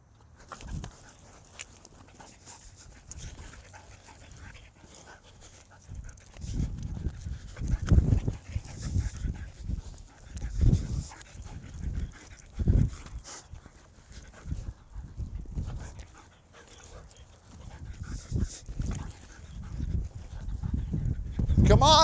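A dog scuffles and pants during rough play, with thumps, rustling and bursts of heavy breathing, up close and irregular.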